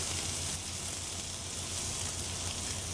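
Butter sizzling in a hot pan alongside pan-fried steak, a steady bright hiss that holds close and even for the whole stretch with no voices over it.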